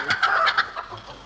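A chicken gives a quick burst of clucks, a few sharp close calls in rapid succession that trail off within a second.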